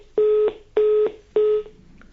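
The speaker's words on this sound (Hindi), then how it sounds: "फोन लाइन डिस्कनेक्ट हो गई है आपकी।" Three steady electronic telephone tones, each about a third of a second long and evenly spaced, sound clearly with no talk over them after a caller's line drops during a live TV call-in show.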